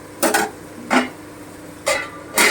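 A lid goes onto a cooking pan for a ridged gourd curry, giving four short metallic clatters spaced over a couple of seconds, close and clear with no talking.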